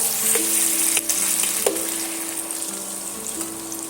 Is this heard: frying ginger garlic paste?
yes